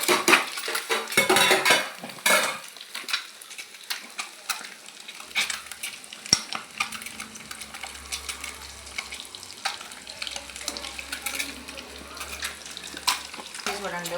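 Eggs fry in hot oil in a pan and get turned over, with clattering pan and utensil knocks, scraping stirs and a soft sizzle underneath, close and uneven, with faint background voice.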